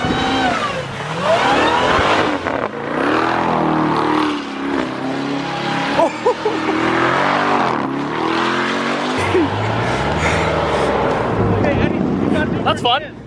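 A Mercedes SLS Black Series revs hard while spinning donuts in snow, its engine surging and falling in long sweeps under excited talk nearby.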